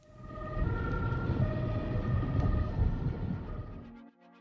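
A wailing ambulance siren over heavy rumbling traffic noise in a road work zone, loud and close, cutting off near the end.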